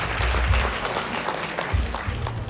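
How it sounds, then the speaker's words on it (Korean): A forum audience in Jeju, at a provincial council session, gives a short burst of steady applause to welcome the speakers, a full, even wash of many hands clapping at once. "함께 큰 박수로 환영해 주시기"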